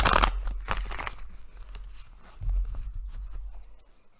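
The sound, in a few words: tarot cards being shuffled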